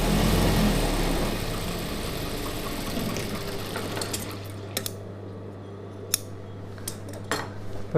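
Scissors snip loose threads from a stitched star-neck chudidhar top, giving a few sharp, close clicks over a steady low hum that fades partway through.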